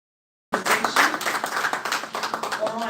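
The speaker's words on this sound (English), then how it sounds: "One more time, a round of applause for TeeMak." A crowd at a live Big Brother Zimbabwe launch event claps loudly for a performer after a half-second of silence, bursting in dense and gradually thinning into scattered hand claps.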